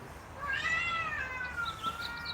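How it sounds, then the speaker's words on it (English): A cat gives a single drawn-out meow, rising then falling, then a few short softer mews, fairly faint against a quiet background with no talking. "There's another fucking cat."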